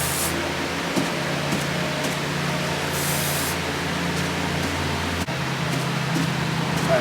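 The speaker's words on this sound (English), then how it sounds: "Spray your bag really good, and just start." A spray paint can hisses in a long, steady, loud spray onto a bandpass subwoofer box, with a brief break near the end before the hissing continues.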